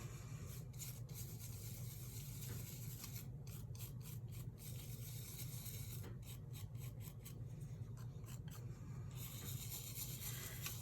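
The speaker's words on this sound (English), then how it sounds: "use the brush to kind of burnish it into the adhesive" A brush rubs and rasps in short repeated strokes, burnishing gold leaf into adhesive during gilding, with quick scratchy bursts over a steady low hum and no speech.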